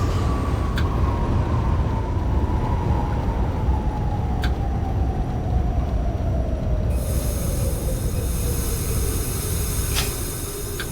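A Q train on the Brighton Beach Line in the OpenBVE simulator slows into Newkirk Plaza station, its loud steady rumble carrying a long brake squeal that glides slowly downward, with a brighter hiss joining near the end.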